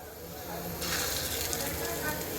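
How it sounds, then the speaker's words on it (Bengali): Masoor and pea lentil fritters (dal bora) frying in hot oil, a close, steady sizzle and bubbling hiss that swells louder partway through, with no talking. "তো চলো প্রথমে আমি ডালের বড়াগুলো ভেজে নিই"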